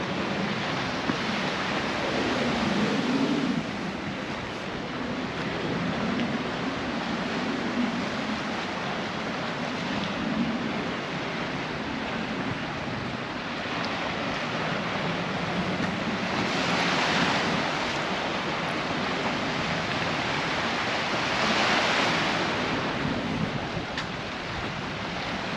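Sea waves wash against the rocky shoreline at Son Caliu, Mallorca, in December, a continuous broad surf rumble with gentle swells every few seconds, overlaid by wind noise on the microphone and no voices.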